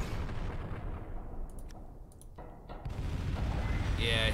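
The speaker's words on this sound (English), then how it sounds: "EMP cannons on this." EMP cannons firing in the space strategy game Final Theory: a rumbling barrage of booming blasts briefly thins mid-way with a few sharp crackles, then swells back to a heavy, sustained roar.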